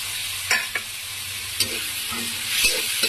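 Ginger-garlic paste fries in oil in a wok, a steady sizzling hiss broken by a few sharp stirring clinks and spatters, heard up close with no talking.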